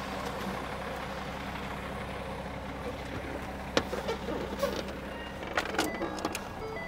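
A truck with a busted transmission runs steadily at close range, its engine making a continuous low drone and rattle that will not pull, with a few sharper knocks and clanks near the end.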